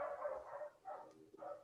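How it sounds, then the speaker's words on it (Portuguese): A dog barks faintly in the background, giving three short barks with brief gaps between them, distant and low in level. "E esse é o cachorro."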